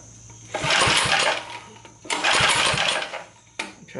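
Attempts to start an old 1970s Sears generator engine with the choke open: two long bursts of cranking and sputtering, about a second and a half each, then a brief third try, close and fairly loud.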